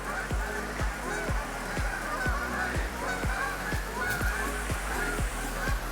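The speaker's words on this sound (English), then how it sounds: "You can feed the ducks up here." Waterfowl at a pond along the Swamp Rabbit Trail in a park, a flock honking in a steady run of repeated nasal calls, fairly close and continuous over an outdoor background.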